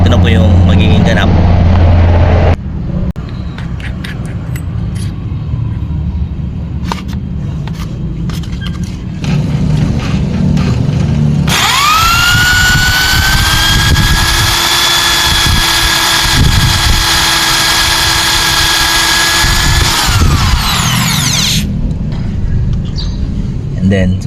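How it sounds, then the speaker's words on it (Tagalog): Electric drill boring out a broken bolt, a loud high-pitched motor whine rising sharply and holding steady for about ten seconds before cutting off, surrounded by clattering handling noise and talk. "Gagamitan po natin siya ng drill bit ng barena."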